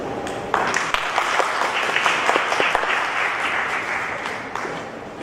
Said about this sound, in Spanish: Por favor, démosle un aplauso